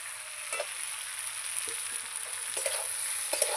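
Ridge gourd pieces frying with potatoes and spices in a pan, a steady soft sizzle with faint occasional stirring scrapes, close and fairly quiet throughout.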